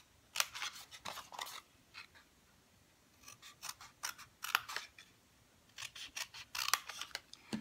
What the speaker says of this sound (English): Next I'm going to cut.